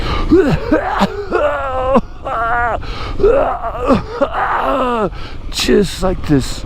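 A person imitates a harsh, dry cough with their voice, several rough bursts and strained groans mixed in with talking.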